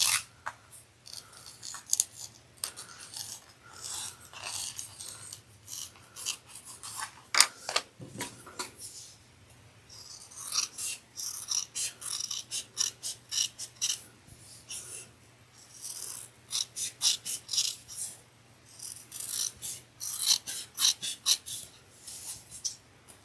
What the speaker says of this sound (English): Does anyone else like the sound of scissors?